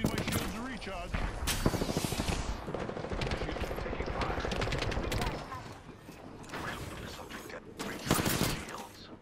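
Gunfire in the video game Apex Legends: loud bursts of automatic fire and shots crackle over shifting in-game mechanical noise, sustained through most of the clip with a heavy burst near the end.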